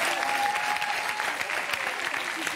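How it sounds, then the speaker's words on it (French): A studio audience on a quiz show applauds a contestant, dense and steady clapping that carries through the whole short moment, close and lively. "On applaudit quand même Laetitia"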